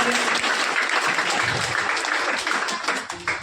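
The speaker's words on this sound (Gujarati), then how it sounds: "આપણે જોરદાર તાળીઓથી આ સન્માનને વધાવીએ." Audience at an honouring ceremony applauds loudly and steadily for a guest being felicitated, a dense wash of clapping that fills the room, with faint voices mixed in underneath.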